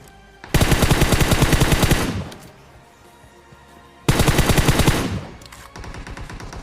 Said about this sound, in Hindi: वहाँ से शॉट्स आ रहे हैं